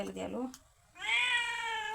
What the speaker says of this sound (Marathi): मांजरी कशी किव येऊन ओरडायली